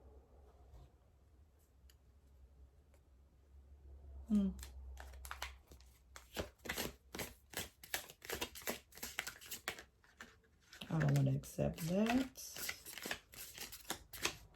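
Light riffling and soft clicking of cards being shuffled, a run of quick ticks, with a person talking over it at intervals.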